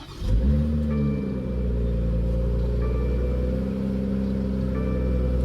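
BMW M440i exhaust after a dual resonator delete, a deep rumbling rev that swells and then settles into a steady, close idle burble, with no voices.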